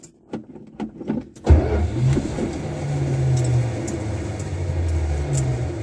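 An engine fed by three carburetors starts after a few cranking pulses, then settles into a steady, loud, close idle.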